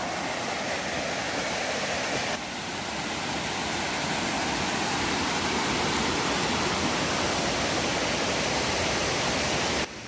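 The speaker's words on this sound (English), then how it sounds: "All right, second stream crossing of the day. Stream crossing number 3." A mountain stream rushes over rocks at a trail crossing amid cascades and pools, a steady loud broadband wash of flowing water close by with no talking, running unbroken for the whole stretch.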